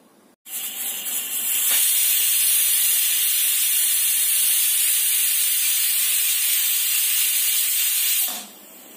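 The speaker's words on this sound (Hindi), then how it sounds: "अब हमारे कुकर में चार सीटी आ चुकी है।" A loud, steady steam hiss blasts from a pressure cooker whistle for several seconds, then cuts off abruptly.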